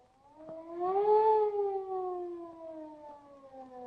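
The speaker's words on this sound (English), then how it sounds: "That sounds like a police car to me." A lone police car siren from a 1933 crime drama rises and then slowly falls in one long wail, distant and fairly faint, with no other sounds around it.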